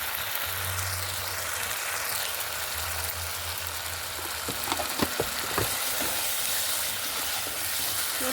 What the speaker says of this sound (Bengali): মশলাটা কষানোর সময় আমি লবণও দিয়ে দিলাম।